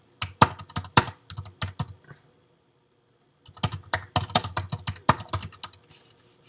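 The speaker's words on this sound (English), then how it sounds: "Sorry, I'm just typing." Fast typing on a computer keyboard comes in two bursts of crisp, close key clicks with a short silent pause between them.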